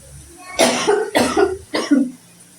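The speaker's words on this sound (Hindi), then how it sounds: "अब मुझे जैसे कि खांसी आई" Three separate coughs from a woman cooking masala in a home kitchen during a winter routine, each a harsh burst spaced about half a second apart, close and fairly loud with no talk.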